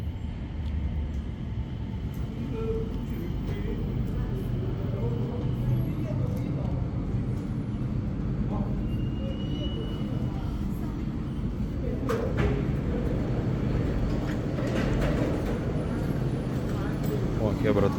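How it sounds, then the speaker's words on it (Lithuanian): A Skytrain shuttle at Singapore's airport runs between terminals, a continuous low rumbling roll with faint clicks and squeals, steady and fairly close throughout, with people talking in the background. "Traukiniai oro uoste."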